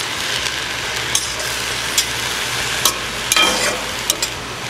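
Water spinach (kalmi shak) fries with garlic in a pan, giving a loud, continuous close sizzle while a spatula taps and scrapes the pan every second or so; no one speaks.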